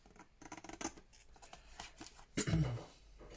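Scissors trim paper for a postcard craft, producing a quiet series of close snips and paper rustles, then a slightly louder cut and crinkle near the end.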